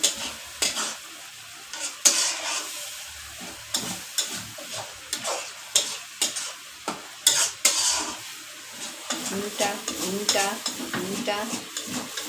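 A spoon stirring chicken and local potato curry in a hot pan, repeated scraping strokes against the metal over a steady sizzle, close and fairly loud.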